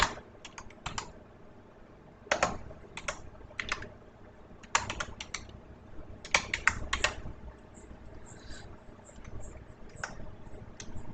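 Typing on a computer keyboard in quick, uneven bursts of clicking keys separated by short pauses, close and fairly quiet.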